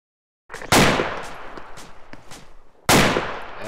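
Gunfire in a military video game: two sharp, loud shots crack out about two seconds apart, each trailing into echoing reverberation and scattered distant pops in between.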